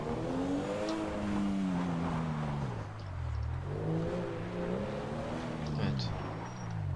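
A 4x4 four-wheel-drive vehicle's engine driving in GTA V near an abandoned mine, a steady droning hum whose pitch rises and falls with revving, heard under someone talking throughout.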